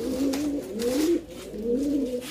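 Racing pigeons coo in soft, rolling, throaty phrases that repeat several times at close range, with a faint outdoor murmur behind them.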